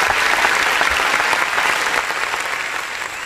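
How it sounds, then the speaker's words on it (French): Loud, sustained crowd applause for a performer named Benji on a television show, dense clapping from a nearby audience that holds steady throughout. "Alors, on applaudit très fort pour Benji."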